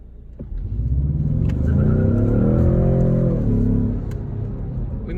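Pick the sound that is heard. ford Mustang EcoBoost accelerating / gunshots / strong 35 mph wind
ford Mustang EcoBoost accelerating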